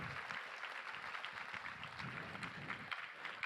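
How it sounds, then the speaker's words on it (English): Audience applause at a gun responsibility luncheon, a dense steady wash of many hands clapping throughout, fairly distant and even, with no voices on top. "let's give them a round of applause for their continued generosity"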